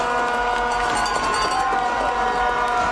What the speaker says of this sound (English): And the crowd goes wild here on the campus of Bridgewater State University.